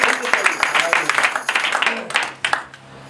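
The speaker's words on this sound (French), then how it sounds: "Acclamons pour le Seigneur" Church congregation clapping and cheering in praise, a dense burst of applause mixed with voices that tapers off near the end.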